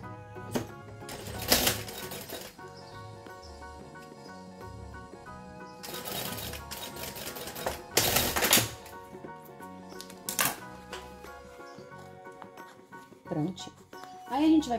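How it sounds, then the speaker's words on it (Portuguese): A sewing machine stitches a safety seam along fabric for a hygiene-kit holder, running in several short, loud bursts separated by quieter pauses, close up. "Vamos passar uma costurinha de segurança."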